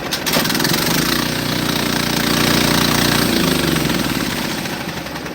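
A Harbor Freight sawmill's small gas engine catches after a cord pull and quickly settles into a loud, steady, close-up rumble that holds for several seconds before easing slightly.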